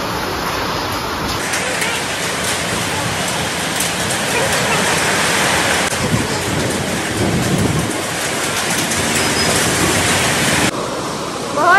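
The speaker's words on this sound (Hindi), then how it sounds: "कितनी तेज तूफानी बारिश आ रही है।" Heavy stormy rain pours steadily outside a roadside restaurant in Rajasthan, a dense, loud hiss that lasts throughout, with faint voices and background activity underneath.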